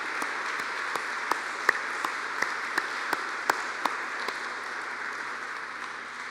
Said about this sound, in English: I would like to offer up a round of applause for you